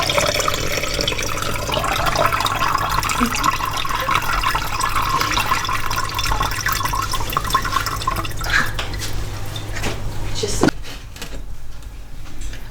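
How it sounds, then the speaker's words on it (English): Pink redbud tea is poured from a strainer back into a pot: a steady splashing, trickling stream of liquid that runs for several seconds, then stops abruptly, followed by a few drips and light clatter. "I'm pouring the tea back in here"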